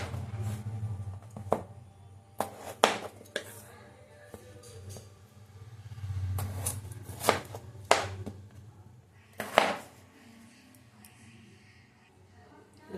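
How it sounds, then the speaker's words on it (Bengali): Three potatoes, skin still on, are cut with a knife on a board in a home kitchen: a handful of sharp, separate chops at irregular intervals over a low background hum. "3টে আলু চোকলা শুদ্ধ কেটে"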